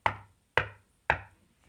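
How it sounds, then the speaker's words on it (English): Three heavy, evenly spaced knocks of a large door knocker against a cave door, each a loud close thud with a short ringing decay, then a faint fourth tap. "She took hold of the knocker and banged on the door"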